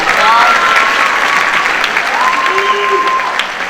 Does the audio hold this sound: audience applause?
yes